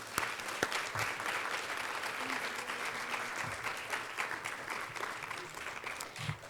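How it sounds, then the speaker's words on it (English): Sustained applause from a moot court competition audience, steady clapping that fills the whole stretch without pause. "Please join me in giving them a round of applause."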